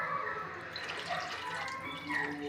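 Water is poured into a pot of tempered tamarind rasam, a soft splashing and trickling that runs continuously and quietly, with no voices over it.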